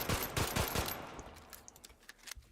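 Pistol fire in the video game Dino Blastin, a quick run of several sharp shots up front, then quieter scattered impacts trailing off, fairly faint overall.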